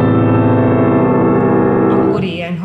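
A piano chord is struck with the left (soft) pedal released, ringing full and sustained for about two seconds before it fades and a voice begins speaking.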